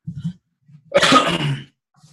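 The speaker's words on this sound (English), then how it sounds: "sorry about the coughing" One harsh, throaty cough bursts out close to the mic, framed by short, low grunting sounds before and after.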